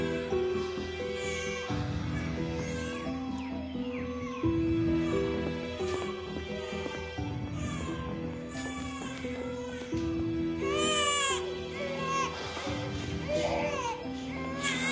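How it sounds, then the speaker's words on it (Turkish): A baby cries loudly and continuously in an indoor domestic scene, wailing in repeated rising and falling bursts with brief catches of breath, close and insistent for the whole stretch. "Bebek bu ağlar ne var?"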